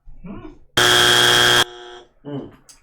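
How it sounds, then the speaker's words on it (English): A loud, harsh Family Feud game show buzzer blares for just under a second between bits of speech, leaving a brief ringing tail. "You got a Family Feud buzzer."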